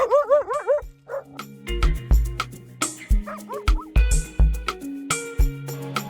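Several dogs bark and yip in a lively, overlapping series, close by, with a few whiny whimpers at the start among the sharp repeated barks.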